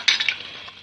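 Beef karahi frying in ghee over high heat, a close sizzle with a few quick stirring scrapes at the start that fade into a steady low hiss.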